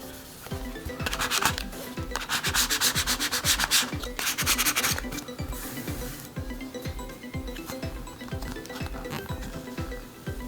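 A cloth wipes down the fretboard of a Washburn Sonamaster guitar in quick, rhythmic back-and-forth rubbing strokes, close and steady for about ten seconds, with a few stroked string notes ringing underneath and no speech.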